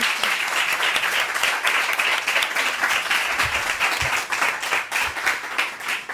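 An audience bursts into loud, sustained applause at a social-inclusion art therapy and arts education event, dense clapping filling the room steadily with no voices over it.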